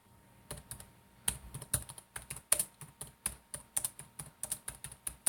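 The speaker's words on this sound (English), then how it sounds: "can you guys hear me typing?" Close, crisp keyboard typing in irregular bursts of clicks and key taps, with no one speaking.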